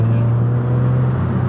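Exhaust from a 2022 Subaru BRZ drones in a loud, steady low tone, a brief close-up burst with no speech over it.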